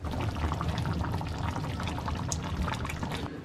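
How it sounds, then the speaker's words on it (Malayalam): Chicken curry is moved from the pot onto a serving plate, giving a continuous wet pouring and sloshing sound with small clinks, close and moderately loud, without talk. "നമുക്കപ്പോൾ ഇത് സർവിങ് പ്ലേറ്റിലേക്ക് മാറ്റാം."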